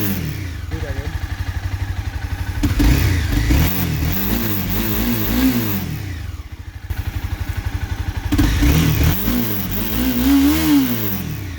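A 2016 Honda CBR 300R motorcycle engine revs up twice with the throttle blipped, rising and falling in pitch over a steady idle, loud and close.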